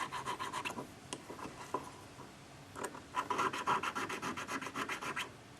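A Celtic design pendant scrubbed sideways with a small tool, giving dry, close rasping strokes that start sparse and then settle into a quick, steady back-and-forth rhythm.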